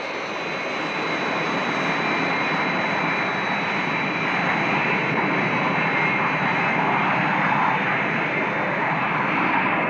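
An airliner on approach to Nice Airport, in the Thunderbirds puppet series, gives a loud, steady jet engine roar that holds evenly throughout, with no voices.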